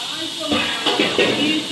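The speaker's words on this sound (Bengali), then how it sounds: "চিংড়ি মাছটা ভালো করে একটু ভেজে নেবো" Prawns frying in a pan for prawn malaikari, a steady hiss of hot oil running throughout with brief louder bursts, close by, while a person talks over it.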